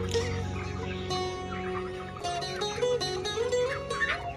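Thirty-six-day-old broiler chickens in a poultry farm set inside a garden, a steady murmur of clucking from the flock with some louder calls near the end.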